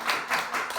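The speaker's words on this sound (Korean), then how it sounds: "우리 축하 박수 한번 쳐드릴까요?" A church congregation briefly claps in congratulation during a worship service, a short patter of hands in three soft swells, fairly quiet and with no voices over it.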